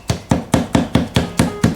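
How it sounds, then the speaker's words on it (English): Eight quick, evenly spaced hammer taps pressing cane into a chair seat, in a steady rhythm, each a sharp knock with a short ring, close by. "You can also take the hammer and"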